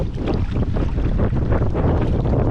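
Strong wind of around twenty miles an hour blows across a lake into a kayak fisherman's microphone, a loud, dense, rumbling buffeting roar that is continuous throughout with no voices.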